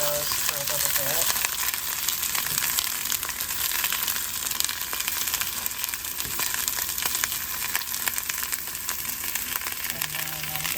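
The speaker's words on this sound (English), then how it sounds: "So I'm going to saute those for a little bit." Peppers, onions, mushrooms and broccoli sauteing in a pan give a loud, dense, continuous sizzle close by, with occasional stirring under the crackle and no talk.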